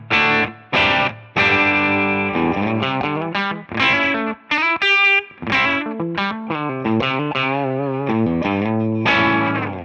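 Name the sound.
overdriven electric guitar through amp modeler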